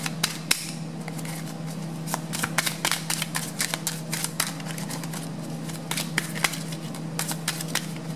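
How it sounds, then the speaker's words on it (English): Small, new tarot cards are shuffled in quick bursts of crisp riffling clicks, slipping and snapping close up, with a low steady hum underneath and no talk. "When you shuffle new cards, they slip a lot."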